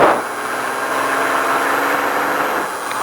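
A Baja truck's engine runs on throttle during a fast run at Speed Vegas, a loud, steady roar holding constant pitch for a few seconds, heard from onboard the truck.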